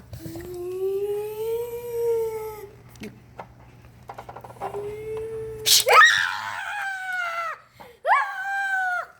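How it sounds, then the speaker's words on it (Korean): A sudden scream in a haunted restaurant scene: a long wavering cry, then sharp, loud, high-pitched shrieks close by. "너왜 비명을 질러 갑자기?"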